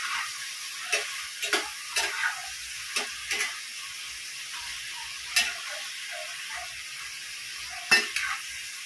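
Chicken adobo simmers and sizzles in a pan in a Filipino home kitchen, a steady bubbling hiss broken by about a dozen sharp ticks and clinks of the spatula against the pan, with no talk.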